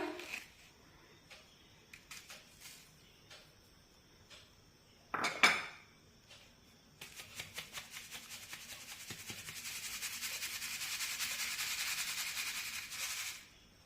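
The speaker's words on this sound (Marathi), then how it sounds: "आता ही पिठी सुद्धा आपण चाळणीने चाळून घेऊया" Powdered sugar being sieved for soft chana dal laddoos gives quiet scattered taps and clinks at first, one louder knock, then a sustained rhythmic scratchy shaking of the sieve that builds and holds to the end.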